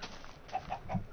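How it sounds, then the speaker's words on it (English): A chicken in the Minecraft video game clucks three quick times in a row, soft and close against a faint background hum, with no talk. "Need another chicken here. Chickens, where are you?"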